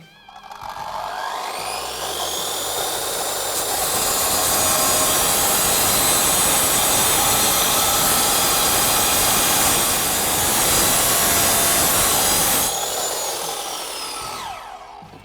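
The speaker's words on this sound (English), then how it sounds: "So here's a very thick piece of rebar, cut off with ease using the R230 Dct." An Evolution R230DCT 9-inch electric concrete saw with a general purpose diamond blade spins up, then grinds through thick rebar in a loud, sustained screeching whine before winding down, with no talking.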